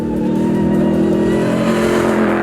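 A Ram TRX pickup truck with a Hellcat engine revs hard, a loud, close, sustained engine roar rising slightly in pitch throughout.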